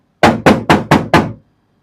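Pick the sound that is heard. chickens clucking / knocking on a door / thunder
knocking on a door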